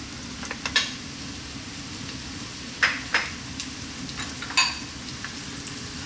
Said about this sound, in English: We're going to start off by dropping in our garlic.